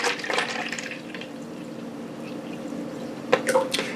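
Azul mango juice poured from a bottle into a glass, a short burst of liquid splashing at the start and again near the end, with a quieter room hum between.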